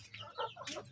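A hen clucks close by in a short burst of several quick, uneven clucks, clear and alone.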